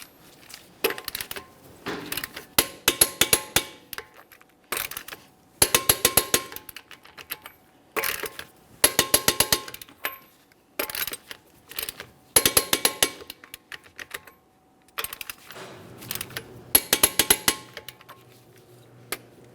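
A torque wrench tightens the wheel lug nuts on a Jeep Grand Cherokee in a crisscross pattern. Short clusters of sharp metallic clicks come in repeated bursts with pauses between them, close by and without talk.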